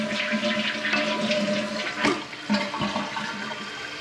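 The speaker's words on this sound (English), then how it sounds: "Sometimes you gotta flush a couple times to get the right height if you're needing to do any major adjustments." A toilet fitted with a Fluidmaster 400A flush valve flushes and begins refilling, a steady rushing, gurgling wash of water nearby with a brief surge midway.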